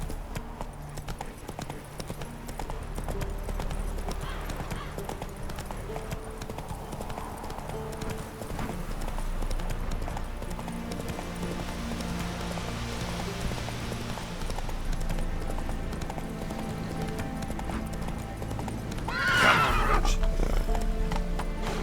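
Roach, the horse in the video game The Witcher 3, gallops with rhythmic clip-clop hoofbeats across the whole stretch, then gives a loud, sharp neigh near the end, while a voice speaks briefly now and then.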